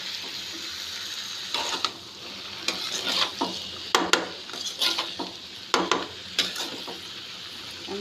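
Papaya stir-fry being stirred in a pan after salt goes in, with a spatula scraping and clattering in irregular bursts over a faint steady sizzle, close and fairly loud, no voices.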